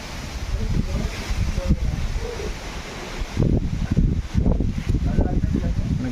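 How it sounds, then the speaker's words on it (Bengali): A strong wind blows outdoors during a storm, a loud, gusty roar with rustling that swells in bursts toward the end. Voices are heard under it. "হেভি হাওয়া চলছে"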